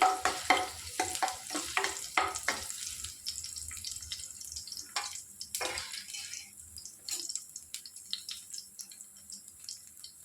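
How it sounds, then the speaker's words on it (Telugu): Two crushed garlic cloves hit hot oil for a lentil and bottle gourd dish, giving a busy close sizzle with clattering stirring and a burst of splashy noise, easing to a softer crackle. "ఆయిల్ వేడెక్కిందండి. ఒక 2 వెల్లుల్లిపాయలు ఇట్లా చెదకొట్టి వేసుకోవాలి."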